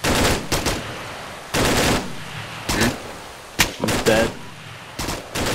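Bursts of automatic gunfire from the Arma 3 video game during a night firefight crack in several separate volleys, some short and some sustained, while a player speaks briefly between shots.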